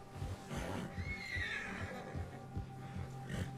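A horse in the video game Red Dead Redemption 2 neighs and whinnies in a few quiet bursts over a low rumble of hoofbeats and ambient game sound, with no talking.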